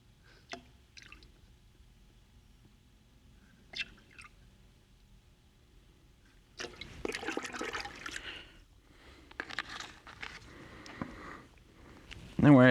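Optimum No Rinse wash concentrate poured capful by capful into a water bucket, giving soft liquid splashes and trickles in bursts after a quiet start, with a voice talking near the end.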